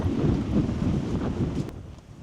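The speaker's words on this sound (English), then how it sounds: "It's getting windy." Steady wind rushes and buffets the microphone throughout, a broad low roar with gusty swells and no voices.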